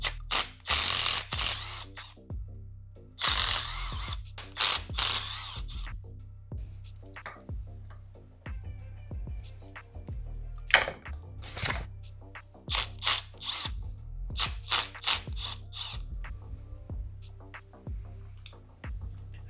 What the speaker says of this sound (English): Now I'm going to take the stator off.